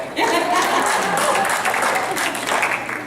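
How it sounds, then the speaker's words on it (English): A burst of applause from a crowd, steady clapping filling about three seconds and tapering slightly at the end. "Is that an applause?"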